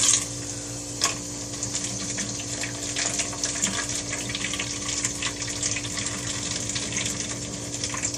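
Hot water runs from a kitchen tap in a steady, moderately quiet stream with faint splashing and a few soft clinks, no voices.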